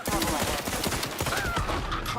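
Rapid gunfire crackles at a Protectorate checkpoint in The Outer Worlds 2, steady bursts of shots filling the scene with a voice speaking over the fighting.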